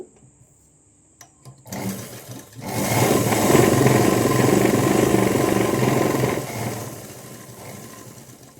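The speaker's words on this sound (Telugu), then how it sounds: "ఇలా జాయిన్ చేసుకున్న తర్వాత మళ్ళీ అయితే దీని మీద ఒక కుట్టు వేస్తున్నాను" A sewing machine runs steadily while stitching the lining of a Punjabi dress. There are a few short starts first, then a loud sustained motor whir lasting several seconds before it eases down.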